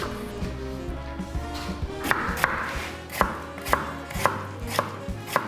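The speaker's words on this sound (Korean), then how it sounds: "이렇게 다이스로 썰어주고요" A knife dices a peeled apple on a cutting board for an apple dessert, producing a steady series of sharp, close chopping taps at an uneven, quick rhythm over a faint background hum.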